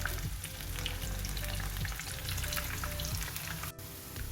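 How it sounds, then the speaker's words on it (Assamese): Cauliflower florets for gobi manchurian deep-fry in hot oil, a dense, steady sizzle and crackle that fills the whole stretch without pause and with no voices. "দুইফালে ধুনীয়াকৈ ভাজি কৰি লওঁ"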